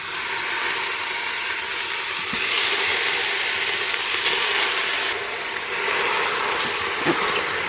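Just under four pounds of lean ground beef browns in oil in an Instant Pot on the sauté setting, giving a steady, moderately loud sizzling hiss that swells slightly midway and carries on unbroken.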